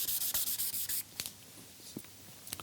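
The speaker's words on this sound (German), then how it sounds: "Jetzt kommt die 1000er Körnung. Und ganz zum Schluss die 2000er Körnung." Fine-grit sandpaper, around 1000 to 2000 grit, is rubbed over the surface of a historic lantern during restoration: about a second of quick, close back-and-forth scratching strokes, then sparse faint rubs and taps.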